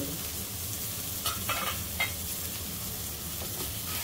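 Rawas fish pieces fry in masala in a pan, a soft steady sizzle close by with a few brief spatula scrapes as they are turned.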